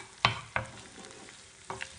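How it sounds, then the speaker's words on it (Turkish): Red and green peppers sautéing with onions in a pan, a low sizzle broken by a few sharp stirring knocks and scrapes of a utensil, close and fairly quiet. "Şimdi biberleri de biraz kavuracağım."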